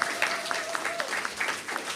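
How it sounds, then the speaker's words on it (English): Applause for students at an inter-primary schools' Anguilla Day quiz; a brief burst of crowd clapping, moderately loud and fairly even, with a faint tone running through the first half. "Let us give all the students a round of applause for a job well done"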